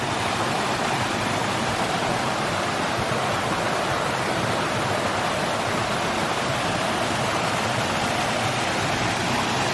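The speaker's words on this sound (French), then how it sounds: "Une très jolie cascade là." A steady, dense roar of falling water fills the scene, broad and constant without pauses, from a nearby waterfall at the lake of Villefort in Lozère.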